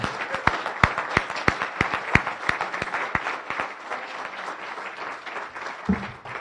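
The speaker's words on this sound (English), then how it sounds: "a round of applause for the Palo Verde High School Honor Guard." Several people at a Rotary Club meeting clap for a high school honor guard, with sharp distinct hand claps at first thinning to a softer patter, ending with a brief low sound.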